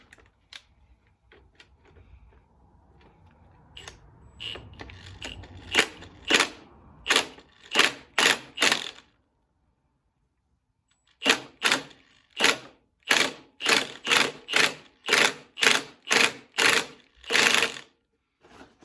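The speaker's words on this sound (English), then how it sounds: "So we've got my impact right here, so let me find the right socket for this and we will bump that off." Impact wrench with a socket removing a bolt during a 2014 Dodge Charger R/T AWD rebuild: loud, sharp rattling bursts come in two long series of short hammering pulses separated by a pause, close up, with no talk.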